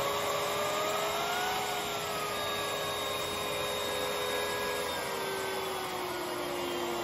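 Lindhaus Valzer L-Ion cordless vacuum with its turbine brush running on low power: a steady, even mechanical whine with a faint tonal hum that shifts slightly in pitch, constant and close.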